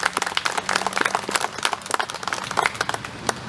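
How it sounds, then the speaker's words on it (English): An audience at a Daughters of the American Revolution chapter event bursts into dense, sustained applause, many hands clapping close by with no voices over it. "Please give these people a round of applause"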